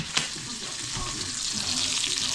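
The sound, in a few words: onions frying in a pan for stewed king fish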